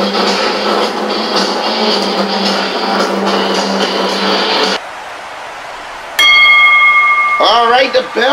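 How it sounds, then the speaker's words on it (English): A wrestling ring bell rings with clear sustained tones after a stretch of loud arena crowd noise, followed by a commentator talking over the ringing. "Alright, the bell ringing"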